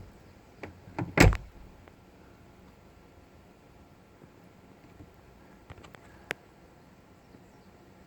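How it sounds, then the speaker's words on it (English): A car door shuts once with a brief solid thump early on, followed by quiet cabin ambience and a couple of faint small clicks, the car fitted with illuminated sill plates. "And when you close the door,"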